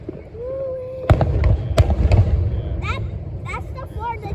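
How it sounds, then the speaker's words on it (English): Fourth of July fireworks in Bethlehem, Pennsylvania crack and boom in a rapid run of loud bursts, while people chatter and exclaim nearby. "Yeah, they're like throwing fireworks."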